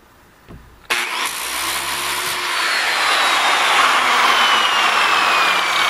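A power grinder sanding out a fairing cut on a wooden boat hull starts with a sudden jump to a loud, steady, whining roar. It holds a continuous, gritty high-pitched drone throughout, close by, with no talking.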